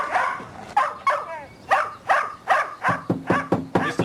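A dog behind a house barks repeatedly in short, sharp bursts, with a few higher yips and whimpers, fairly close and loud, the barks coming faster toward the end.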